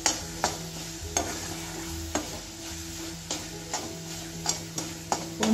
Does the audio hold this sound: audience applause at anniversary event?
no